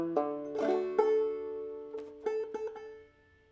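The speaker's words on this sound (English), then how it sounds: "Next measure, we got a series of hammer-ons and pull-offs." Clawhammer banjo notes picked and slurred with hammer-ons and pull-offs on the tune Belle of Lexington, a short run of bright twangy notes with ringing sustain, played quietly and close with no talk.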